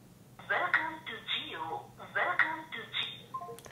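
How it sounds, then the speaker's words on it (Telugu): A phone call placed on a Samsung Galaxy Note 9 with dual SIM support, a repeating tonal phrase cycling about twice in under four seconds, fairly clear and close. "ఒకసారి మనం ఫోన్ చేసి చూద్దాం."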